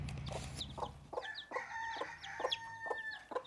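A hen with her chicks makes soft repeated clucks, accompanied by a string of high, thin chick peeps and cheeps close by, in an otherwise quiet setting.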